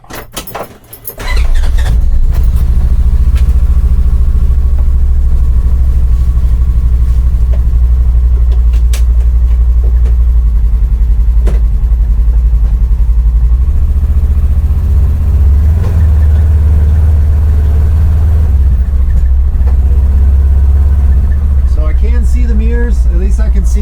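Off-road side-by-side fitted with KEMIMOTO windows driving, a steady loud engine drone and cabin rumble that holds throughout after a brief startup.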